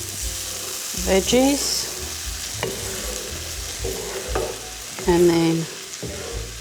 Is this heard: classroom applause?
no